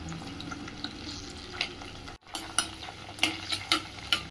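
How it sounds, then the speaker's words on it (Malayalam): Garlic, green chili and ginger sautéing in oil for an amla thokku, with a soft steady sizzle and a spoon scraping and stirring in irregular clinks, briefly cut off midway and then resuming close up. "ഇപ്പം നമ്മുടെ വെളുത്തുള്ളി, പച്ചമുളക്, ഇഞ്ചി ആദ്യം അതൊന്ന് വഴറ്റിയെടുക്കാം."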